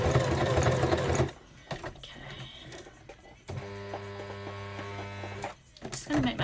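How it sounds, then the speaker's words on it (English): An old sewing machine runs a zigzag stitch in two bursts of fast, steady mechanical whirring, close and clear, separated by a pause, with someone talking around it. "So we're just going to zigzag stitch."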